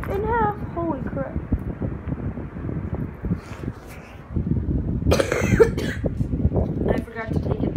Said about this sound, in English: that's why my cough is like really bad